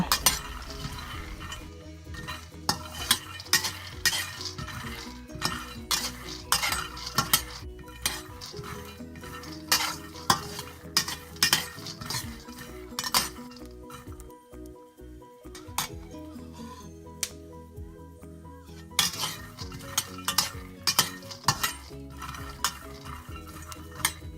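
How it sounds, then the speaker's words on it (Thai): A utensil scrapes and stirs repeatedly against a pan of peanuts roasting over medium heat, with irregular clinks and rattles of dry peanuts tumbling, steady and close. "หมั่นคนเป็นระยะค่ะ"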